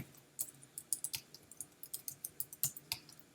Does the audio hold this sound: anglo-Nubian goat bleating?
no